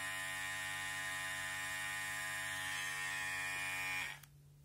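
An Aprilla AHC 5035 professional hair clipper hums nearby with a steady, even electric buzz for about four seconds, then switches off and winds down to silence.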